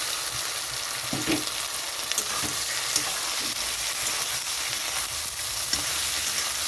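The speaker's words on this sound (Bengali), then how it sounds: "মাছটা খুব ভালো করে ভাজতে হবে" Prawns fry in a pan with sautéed tomato, giving a steady, dense sizzle with occasional crackles and pops, with no voices.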